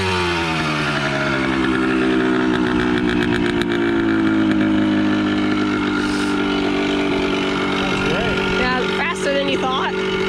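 A 1974 Yamaha MX100 motorcycle serves as a pit bike, its small two-stroke engine running loud and close with a steady buzzing drone that rises and falls as it revs, while people talk over it.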